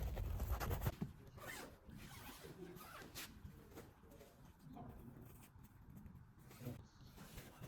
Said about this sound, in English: Unzip the door with one hand to test zipper smoothness.